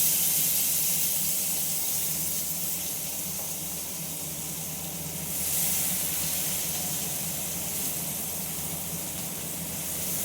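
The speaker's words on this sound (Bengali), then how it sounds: "চিচিঙ্গাটা ভেজে নেবো।" Squeezed ridge gourd (chichinga), still wet, fries in a kadai wok with a loud, continuous close sizzle and hiss that swells slightly partway through; no one speaks.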